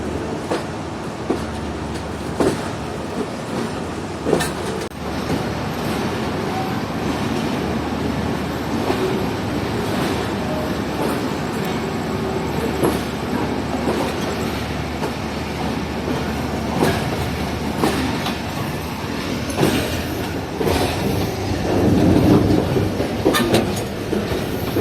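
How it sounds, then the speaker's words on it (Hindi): Shah Hussain Express pulling out of Multan railway station, a continuous loud rumble of rolling railcars with repeated clickety-clack wheel beats and occasional squeals, heard from on board. "तो दोस्तों ट्रेन निकल चुकी है मुल्तान रेलवे स्टेशन से"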